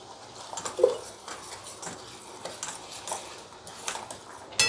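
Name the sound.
whisking thick gram flour (besan) batter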